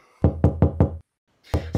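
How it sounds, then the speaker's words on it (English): Knocking on a door in a dramatized reading: four loud, evenly spaced raps, a short silence, then two more heavy knocks, close and resonant. "All of a sudden, there came a knock upon the door."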